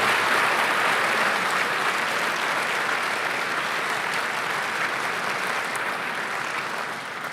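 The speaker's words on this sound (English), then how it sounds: "Dr. Hamadoun Touré also deserves a round of applause for making all this thing come together" Delegates at a closing session of a Smart Africa leaders' gathering give a long, steady round of applause that holds evenly, then tapers slightly at the end.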